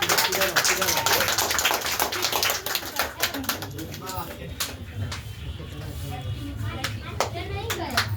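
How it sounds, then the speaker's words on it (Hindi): A crowd of students claps steadily and loudly at a Teachers' Day event, sustained applause filling the space with a few voices mixed in underneath. "एक बार जोरदार ताली बजा के स्वागत करिए।"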